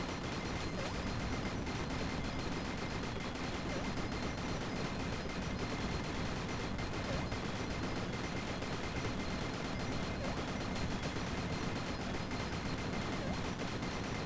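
Continuous explosions and gunfire rumble in the video game Talented, a steady dense wash of blasts and crackling that keeps going without a break.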